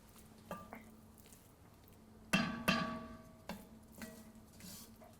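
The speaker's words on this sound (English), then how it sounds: "Mix it nicely with the masala mixture. Let it cook for some time." Mushrooms cooking in a masala mixture for mushroom masala are stirred in a pan, giving a few scraping clinks of a spoon over a low background sizzle, with two louder scrapes near the middle.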